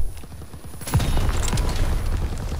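Gunfire in the Call of Duty WW2 video game crackles as a dense burst of rapid shots and booms, loud and close, continuing through the whole moment without talk.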